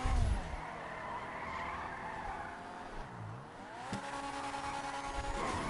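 A car in GTA Online skids with drawn-out tire squeals and shifting engine revs, a continuous loud game sound with no talk over it.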